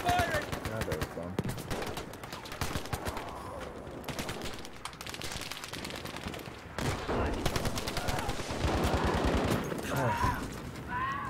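Rapid gunfire from the video game Battlefield V, dense automatic bursts and shots running throughout, loud and continuous over game effects, with a player's brief exclamation mixed in.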